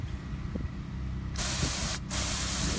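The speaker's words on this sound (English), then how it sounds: "Spraying it a little harder" Close, forceful water spray hissing in two strong bursts separated by a brief pause, aimed onto a fire ant mound, with quieter outdoor rumble before it starts.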